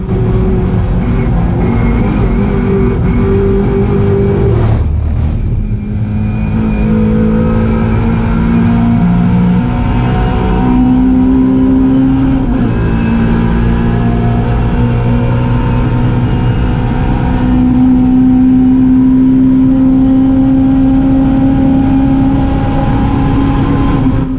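Mini Cooper race car engine at the Goodwood Revival, loud and close throughout, with sustained revving that rises and drops through gear changes and one sharp break near the fifth second.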